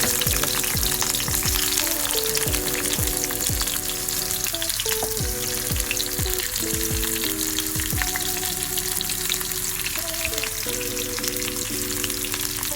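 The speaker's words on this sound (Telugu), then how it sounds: "ఓకే, ఎర్రగడ్డ వేస్తాను. ఎర్రగడ్డ కొంచెం దూరంగా వేగాలి." Sliced onions frying in hot oil for a tempering for moong dal sambar, a steady loud sizzle with crackles and occasional scraping stirs, heard alone with no talk.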